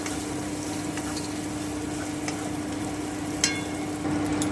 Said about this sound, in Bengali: এবারে আমি তিলটা দিয়ে দিচ্ছি আমি এক মিনিট মতো একটু ভেজে নিচ্ছি